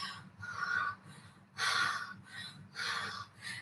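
A human voice imitates a running jackal panting, with four rhythmic breathy huffs in quick succession, close and alone.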